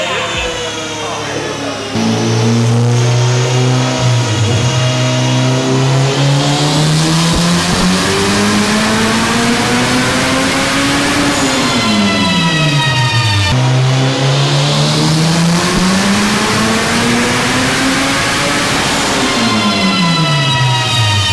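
The 600 HP turbo engine of a 1992 Honda Civic EG hatchback revs loudly and close, climbing through long rising sweeps and then dropping back, twice over, with voices speaking beneath the roar.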